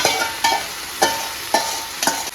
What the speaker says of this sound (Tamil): சிம்மில் வச்சு நல்லா கிளறி கொடுக்கணும்